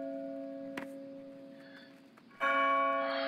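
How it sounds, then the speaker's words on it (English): A church bell tolls in Splinter Cell at the Georgian Presidential Palace in Tbilisi: one ringing stroke decays slowly, then a fresh, louder strike rings out near the end, with a faint click partway through. "Is that supposed to be a midnight bell of sorts?"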